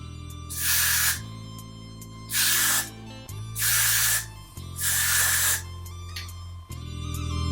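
Four bursts of Got To Be hair spray hiss in short, close presses onto a synthetic lace-front wig, separated by brief pauses over steady background music.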